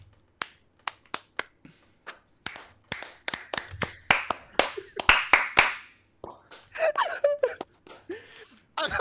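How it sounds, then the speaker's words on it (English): Several people clap in sharp, separate bursts, with sparse single claps at first and then quicker clusters, close and crisp. Loud breathy vocal sounds come in toward the end. "I don't know who's clapping anymore."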